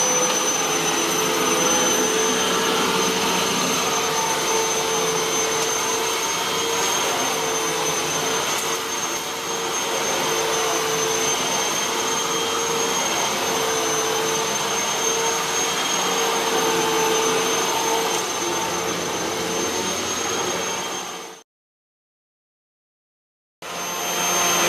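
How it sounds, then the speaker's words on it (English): A Hoover Windtunnel bagless upright vacuum cleaner runs with a loud, steady motor roar and high whine for over twenty seconds, then cuts off abruptly, with a brief burst of sound returning at the very end. "Vacuuming."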